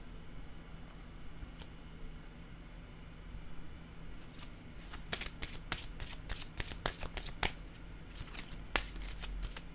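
Playing cards shuffled and set down during a tarot-style reading, a steady soft rustle giving way to a run of sharp crisp snaps and flicks as cards are handled and laid out, close and quiet with no talk.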